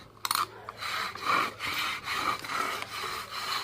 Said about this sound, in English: place the bearing block on top of the spindle and move the bow